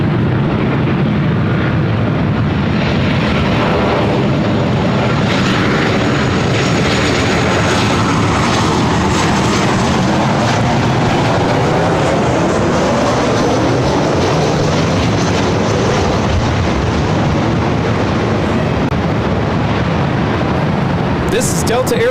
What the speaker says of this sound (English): This is Delta Airlines 2120 coming in from Las Vegas on the 737-800.